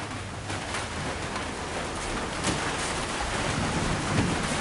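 Rain falls steadily outdoors around an enclosed cargo trailer, a soft continuous hiss of drops at moderate distance with a faint low rumble beneath, no speech.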